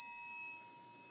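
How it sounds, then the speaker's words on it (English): A single bell rung on a live stage by a reader to mark a redacted passage of text: one bright ding with a clear ringing tone that decays slowly over about a second, heard alone. "When a reader comes to a section of text that has been redacted, they will indicate so by ringing a bell."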